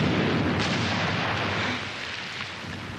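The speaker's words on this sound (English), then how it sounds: "How about if the artillery ain't accurate?" Royal Artillery guns fire in a wartime setting, a dense, rumbling roar of distant barrage that stays heavy and continuous, then slightly lessens. No voices are heard.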